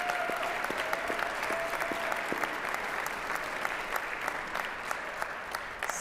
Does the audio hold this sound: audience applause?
yes